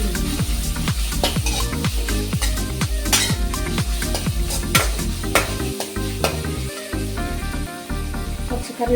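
Curry leaves dropped into hot oil crackle and sizzle steadily in a pan, with repeated stirring and metallic pot clinks throughout, no talking over it.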